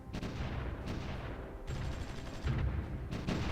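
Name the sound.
artillery fire in a video game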